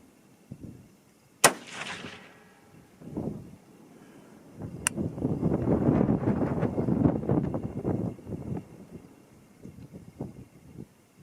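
A Christensen Arms MPR rifle in 6.5 Creedmoor firing a 120 grain Gold Dot load: one sharp, loud shot cracks out near the start. Rumbling wind and handling noise follow, with a second brief click-like transient a few seconds later.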